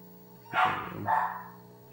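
A pet dog gives two quick barks, a sharp one followed closely by a second, close to the microphone with a steady electronic hum underneath. No one speaks.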